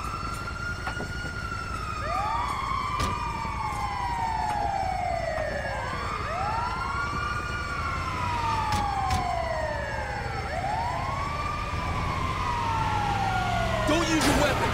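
A wailing ambulance siren in the video game GTA 5 sweeps up and down repeatedly in long rising and falling cycles, loud and close, with a brief burst of other noise near the end.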